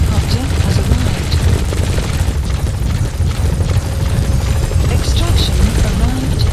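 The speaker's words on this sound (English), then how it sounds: "Support helicopter has arrived." A support helicopter arrives in a video game with a loud, steady rotor drone that fills the whole stretch, plus a few sharp hits on top.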